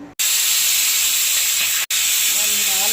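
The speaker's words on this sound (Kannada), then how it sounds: "ಕೂಗಿಸ್ತಾ ಇದ್ದೀನಿ ಸ್ವಲ್ಪ ಮೆತ್ತಗಾಗಿ ಬೇಳೆ ಅಂತ." A pressure cooker cooking lentils for sambar vents steam in a loud, steady, close hiss, broken by two brief cuts.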